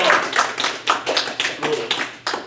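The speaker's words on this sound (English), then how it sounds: "All right, applause. Applause." Sparse clapping from a small group, individual claps distinct and somewhat irregular, around ten separate hits, moderately loud and fairly close.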